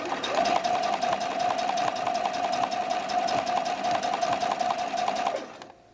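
A sewing machine stitches bralette cradles in one continuous run of rapid, even needle strokes with a steady motor whine, close and alone, stopping abruptly just before the end.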